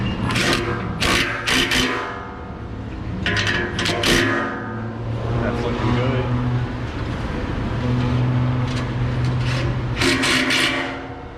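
A ratchet loosens an exhaust bolt under a Ford Mustang: clustered bursts of quick metallic clicking come in three or four rounds over a steady low hum, close and fairly loud.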